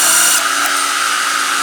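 Power drill pre-drilling a pilot hole in wood trim for fiber cement siding, a loud close continuous high whine held steady for a moment, alone with no talk.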